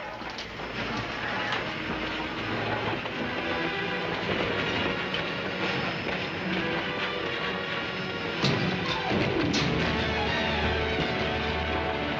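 A train runs steadily on the tracks, a loud continuous rumble with rhythmic clickety-clack and a brief clunk near the end.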